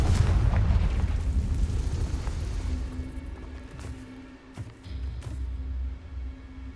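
A Confringo fire spell blasts in the Hogwarts Legacy video game, a loud boom whose rumble fades over several seconds, followed by a smaller burst of crackling impacts.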